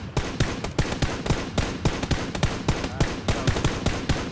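Rapid bursts of gunfire in the video game Battlegrounds crack out in quick succession, evenly spaced shots repeating steadily for several seconds, loud and close with no talking.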